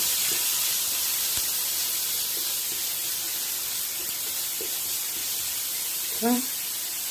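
Curry leaves and onions sizzle in hot oil with popped mustard seeds for kara kuzhambu, a steady broadband frying hiss running throughout the pan with no talk.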